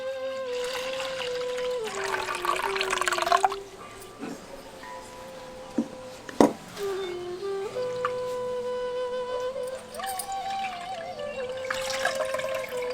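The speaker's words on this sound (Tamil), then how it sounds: "ரவையில இருக்க பாலை மட்டும் தனியா இந்த மாதிரி துணியை வச்சு புளிஞ்சு எடுத்துருவோம்." Milk is wrung by hand from soaked semolina through a cloth while homemade maida is made, giving a soft trickling and dribbling of liquid that rises and falls over a low background.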